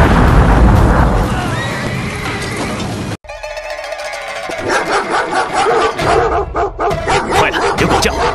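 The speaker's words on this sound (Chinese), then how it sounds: "有狗叫，这下被发现了。" Dogs bark repeatedly in a rapid, irregular series, moderately loud amid busy background noise and shouting in a battle scene, following an earlier stretch of dense crowd and combat commotion.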